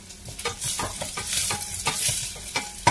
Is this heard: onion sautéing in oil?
yes